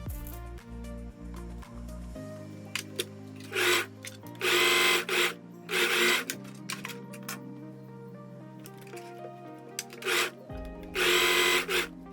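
A sewing machine stitches the side seams of a dress in several short, loud bursts of rapid mechanical whirring, separated by quieter handling and pauses.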